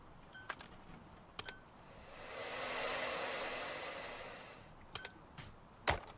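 A blower fan revs up in the cleaning game Undusted, a soft whoosh swelling to a steady rush for a few seconds and fading, framed by a few sharp clicks before and after.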